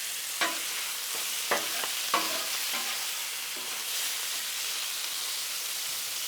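Chicken fries in bacon grease on a Blackstone griddle with a steady, close sizzle and hiss, broken early by a few sharp clicks and scrapes of a utensil. No voices are heard.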